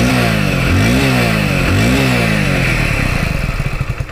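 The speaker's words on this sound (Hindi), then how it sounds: "और अब चलिए इसको स्टार्ट करते हैं और आपको मैं एग्जॉस्ट नोट सुना देता हूँ।" Close, loud exhaust note of a Hero Splendor Plus XTEC motorcycle engine, blipped through three quick rising revs before settling into a steady putting idle.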